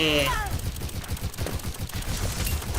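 Rapid sweeping gunfire rings out in the video game Overwatch, with a dense, continuous burst of shots running throughout the clip.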